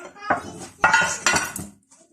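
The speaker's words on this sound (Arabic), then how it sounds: "هنبدأ بقى ان احنا نجيب صينية" A metal baking tray for a chicken and potato dish gets handled, producing a few close clanks and scraping knocks spread over a couple of seconds, with a brief faint voice at the end.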